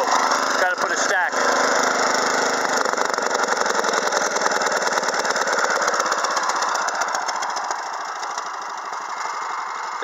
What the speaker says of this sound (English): There's the lowest idle setting.